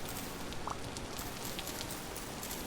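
Soft, constant rainfall in the video game Vintage Story, an even, faint hiss of drops with no talking.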